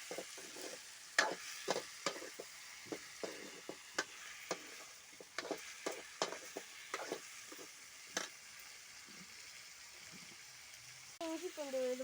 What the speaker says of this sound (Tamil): இப்போ கழுவி வச்ச சிக்கனை வந்து அதில் போடணும். அவ்வளோ போட்டாச்சு. நல்லா கிளறி வச்சுக்கோங்க.